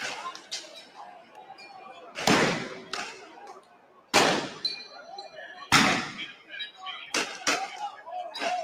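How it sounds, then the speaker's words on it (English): Sharp bangs of fireworks going off around a protest crowd, several loud cracks spaced a second or two apart among lighter pops, with a murmur of voices running underneath. "It sound like the fireworks"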